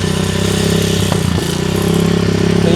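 A custom-built motorcycle engine from a Portuguese biker build-off idles steadily close by with a throbbing, even rumble and light mechanical clatter throughout, and no one speaks.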